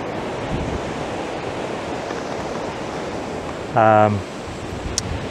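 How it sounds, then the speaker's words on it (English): Steady, loud wind roars over the microphone at Mission Beach, Queensland, Australia, with surf-like rushing throughout, and a short voiced sound breaks through briefly near the end. "It's really windy here today."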